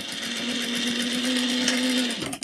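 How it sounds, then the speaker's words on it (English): A sewing machine runs a steady top-stitching pass along a hat, a continuous close hum of about two seconds that stops abruptly near the end with a brief clatter. "So I'm gonna go back, re-top stitch,"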